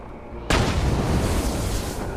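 A sudden loud blast of gunfire erupts in Borderlands 2 as a pumpkin is shot, followed by a sustained roaring, rumbling wash of explosive game noise that holds steady to the end.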